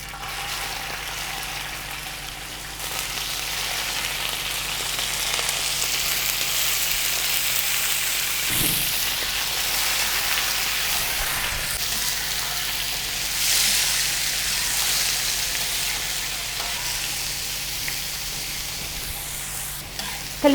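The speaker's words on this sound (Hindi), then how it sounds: "ऑयल डालने के बाद हम इसके ऊपर कलेजी डाल लेंगे।" Chicken liver fries in six tablespoons of oil on an iron tawa, giving a steady, close sizzle with crackling throughout, a few brief stirring knocks, and a sharp clink at the very end.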